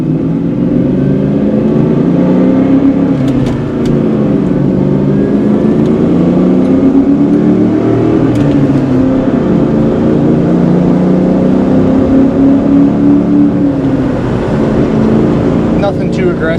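A 2004 Ford Mustang Mach 1 pulls hard on an open road, its loud, steady engine drone rising and falling in pitch through the run, heard from inside the car with constant road noise.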